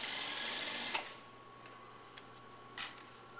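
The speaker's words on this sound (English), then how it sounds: "Take a few stitches, reverse, and you're going to sew down" Sewing machine with a narrow presser foot stitching an invisible zipper, a brief run of fast, soft whirring stitches at the start, then faint clicks and small handling noises.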